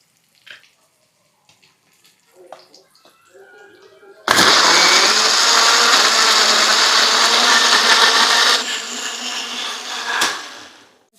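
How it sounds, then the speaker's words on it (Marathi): Kitchen mixer grinding tomatoes, ginger and garlic into a paste: a loud, close whirring roar that kicks in abruptly, runs steadily for about six seconds, then winds down, preceded by light handling noises. "हे सगळं आता आपण मिक्सरला एकदम बारीक असं फिरवून घेणार आहोत."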